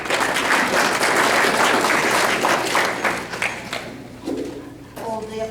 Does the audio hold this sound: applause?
yes